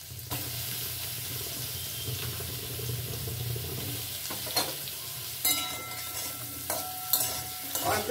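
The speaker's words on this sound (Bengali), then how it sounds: "এই মান কচুটা আমি কড়ার মধ্যে প্রথমে দিয়ে দিচ্ছি" Taro frying in mustard oil in a wok, a steady hiss under repeated scraping and clattering of stirring that grows more frequent toward the end, close and moderately loud, no speech.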